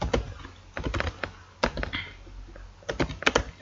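Short bursts of typing on a computer keyboard while coding in Python, with close, crisp key taps in irregular clusters and brief pauses between them, heard alone.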